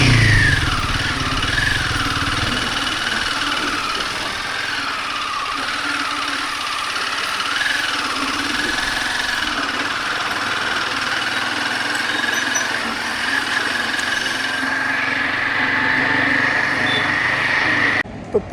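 A motorcycle engine hums steadily on a long nonstop night ride from Somnath to Jaipur, a continuous close drone with slight pitch wavers and wind noise, no pauses.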